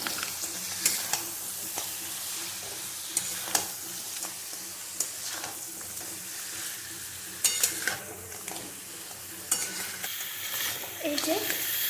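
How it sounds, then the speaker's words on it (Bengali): Pre-fried sea blue crabs are stirred into spice paste in a pan, Bengali style, with a steady low sizzle and repeated sharp knocks and scrapes of a utensil against the pan. "এখন আমি মশলাটার মধ্যে আগে থেকে ভেজে রাখা কাঁকড়াগুলোকে দিয়ে আবার কিছুক্ষণ সময় ধরে কষিয়ে দেব।"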